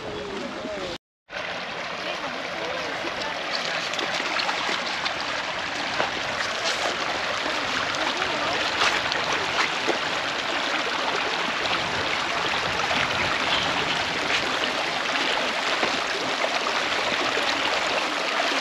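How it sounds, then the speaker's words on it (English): A small stream flows out over rocks at the headwaters of the Mississippi River in Minnesota, a steady broadband rush of water that stays close and even throughout, apart from a momentary dropout near the start. "here's this little big stream coming out, and that's the start of the Mississippi River"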